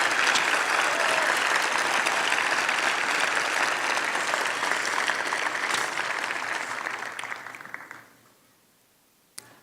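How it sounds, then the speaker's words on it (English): A large audience at a white coat ceremony applauds loudly and steadily for about eight seconds before the clapping fades and stops, with one last sharp clap near the end. "we need to give these people a big round of applause for all you do"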